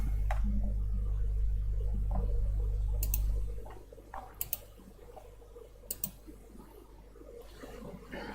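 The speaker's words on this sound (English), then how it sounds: "This is the junction box removal machine." A solar panel junction box removal machine runs with a loud low hum that drops away after a few seconds, followed by quieter background noise and a few sharp clicks and ticks.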